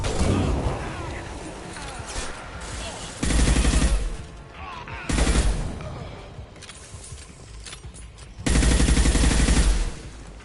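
Rifle fire in Mass Effect 2 during a combat mission, with repeated loud bursts and volleys, heavier blasts near 3, 5.5 and 8.5 seconds, and a voice briefly calling out between them.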